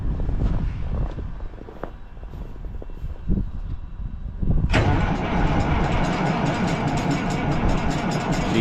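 An engine cranks unevenly with a sputtering starter, then catches abruptly and roars into a loud, steady run, heard close with no talking.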